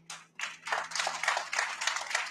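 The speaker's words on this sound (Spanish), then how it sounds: "Hay que pedir un fuerte aplauso" Scattered hand claps swell into brief applause from a small group, fairly quiet and steady throughout.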